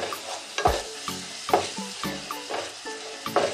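Garam masala frying in oil for pav bhaji, a soft steady sizzle broken by regular stirring strokes of a spoon against the pan, close and with no talking.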